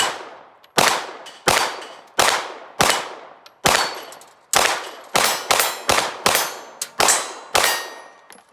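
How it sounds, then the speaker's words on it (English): CZ P10C pistol firing about seventeen rounds at steel plates, each shot a sharp bright clang with ringing decay, paced steadily at first and then in quicker bursts, no talking. "We're going to shoot the CZ P10C. And here we go, left to right."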